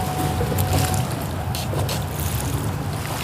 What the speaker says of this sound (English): Hopefully this motor doesn't ram me into this piling.